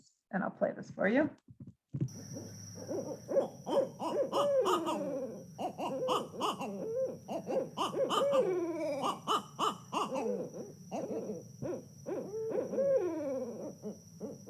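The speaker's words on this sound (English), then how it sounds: "So this barred owl might sing a duet" A barred owl pair sings a duet of loud, rhythmic hooting calls with higher-pitched notes mixed in, heard after a brief spoken introduction.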